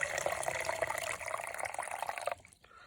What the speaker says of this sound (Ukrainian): Заливаємо теплою водою